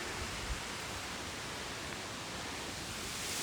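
Steady broadband rush of a waterfall at Paradise on Mount Rainier, a constant even roar filling the clip with no breaks and no voices.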